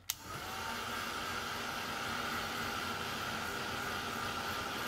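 A hair dryer runs steadily while drying oxide ink in a craft session, starting with a sharp click and then holding a loud, constant whooshing hum with a thin tonal whine for the full stretch, with no talk.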